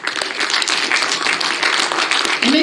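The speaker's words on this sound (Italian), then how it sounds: "di Gavino Locke e Serenella Lunesu, che accogliamo con un fortissimo applauso." Enthusiastic audience applause at a literary prize award ceremony in Olbia, a loud, dense wash of clapping that sustains steadily throughout.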